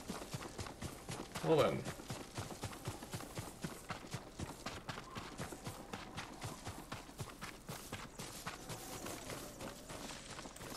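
Horse hooves clip-clop at a steady trot through a Ghost of Tsushima game scene, a continuous rhythmic patter of moderate loudness running beneath a brief spoken remark near the start.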